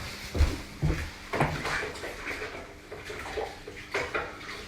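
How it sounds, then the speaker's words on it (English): A kitchen tap runs while a knife is rinsed during cooking, with soft running water and several sharp clinks of metal against the sink or dishes, fairly quiet and close. "I've just washed my knife."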